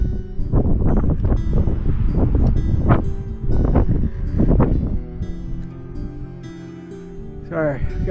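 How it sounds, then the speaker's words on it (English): Gusty wind buffets the microphone in strong low rumbling bursts at a mountaintop fire lookout, easing off midway, with faint tonal sounds in the background. "It's a little windy up here."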